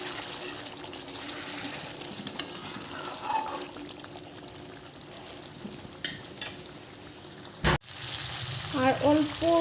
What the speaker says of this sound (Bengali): এইভাবে মাছটাকে ভালোভাবে কষিয়ে নেব।